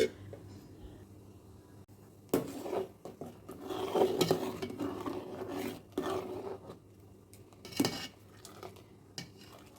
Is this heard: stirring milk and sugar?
yes